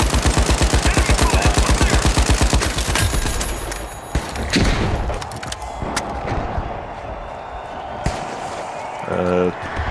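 Rapid automatic gunfire in the video game The Finals, a dense stream of loud shots in the first seconds that breaks into scattered bursts, impacts and debris crashes, with game sounds and voices around it.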